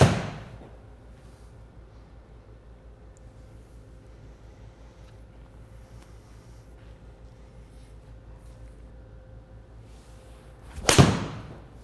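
A golf iron fitted with a Project X shaft strikes a ball with one sharp, crisp impact near the end, after a long quiet stretch of low ambient hum.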